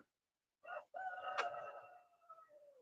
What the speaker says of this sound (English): Hear the rooster?